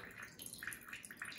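Water poured over dry compost of sphagnum peat moss and bark mulch in a pot, giving faint trickling and bubbling gurgles as it drains quickly through.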